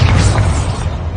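A Bombarda spell blast in Hogwarts Legacy, a loud, sustained booming explosion with a heavy low rumble that lasts the whole moment and fades only slightly.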